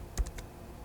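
A few quick keystrokes click on a computer keyboard, close and fairly soft, with one slightly louder press among them and quiet room tone between.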